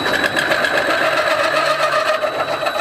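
Cutting a part on a machine tool, with steady high-pitched machining chatter and a whining rattle running continuously, fairly loud and up close, with no voices.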